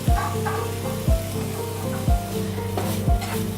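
Shallots and onion sautéing in hot oil in a pan: a loud, steady close sizzle with periodic low scraping sweeps of stirring roughly once a second, no talk.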